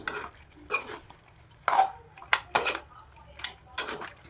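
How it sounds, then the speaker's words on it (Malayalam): Metal spoon scraping and clinking against a pan while chicken roast is stirred and sautéed Kerala style, several distinct scrapes and knocks in short bursts over a quiet background. "ഇനി അതിലിട്ട് നന്നായിട്ടൊന്ന് ഇളക്കി വഴറ്റിയെടുക്കണം."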